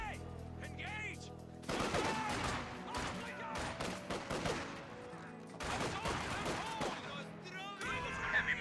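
Gunfire in the video game Company of Heroes 2, sustained machine-gun bursts and rifle fire in dense volleys with brief pauses, loud and close, with in-game voices shouting over it.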